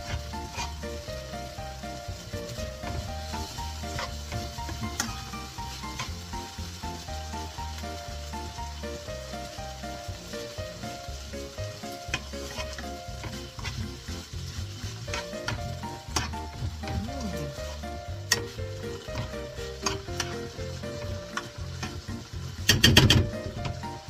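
Pork and eggplant frying in a pan with bagoong, a steady crackling sizzle under constant scraping and stirring strokes that run throughout.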